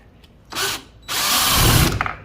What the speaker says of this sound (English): try it with the drill now. I have it set up with the universal socket and the adapter